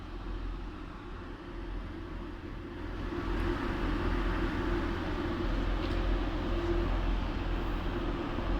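A nine-car blue Pullman HST train passes through Doncaster, a low, broad rumble that swells partway through and holds steady, mid-distance and moderately loud.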